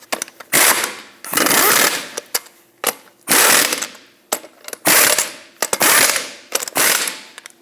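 A ratchet wrench clicks in a series of rapid bursts while tightening wheel lug nuts on a 2008-2012 Jeep Liberty, close and loud, each burst separated by short pauses.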